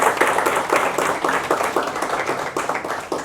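An audience claps to welcome a top-ranked exam achiever, with close, sharp hand claps falling in a loose, fairly regular rhythm, loud and without speech over them.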